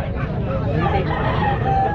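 Grizzle pigeons for sale at a live bird market coo and flutter close by, a busy, continuous mix of bird calls with people talking over them.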